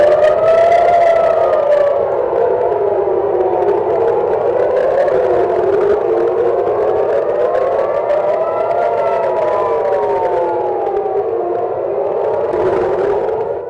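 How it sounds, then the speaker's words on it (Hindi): Air raid sirens wail over Tel Aviv during a missile attack, a loud continuous rising and falling tone from several sirens overlapping throughout. "सायरन बज रहे हैं।"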